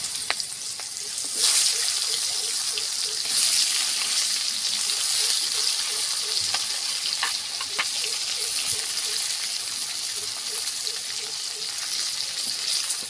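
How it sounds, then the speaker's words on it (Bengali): Onions and bay leaves fry in a pan with a strong, continuous sizzle and occasional stirring scrapes. The sound is close and loud, with no talking. "তেজপাতা পেঁয়াজগুলো আমি ভালো করে ভেজে নেব"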